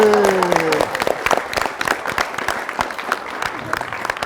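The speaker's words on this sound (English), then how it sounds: "So after 3 count, then we have a big applause" Crowd clapping at the opening ceremony of an indigenous linguistics conference in Miri, Sarawak, following a gong strike whose ringing tone fades early, then scattered, uneven claps continuing to the end.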